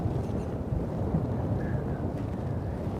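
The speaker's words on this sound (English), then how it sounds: "It's windy." Wind buffets and rumbles across the microphone while fishing for rainbow and cutthroat trout from a boat in eastern Idaho, a steady low roar with no speech.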